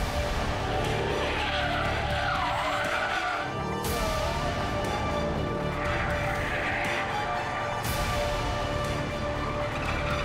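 Tyres squeal loudly and continuously as a car drifts, with engine roar underneath and a couple of sharp surges in the screech.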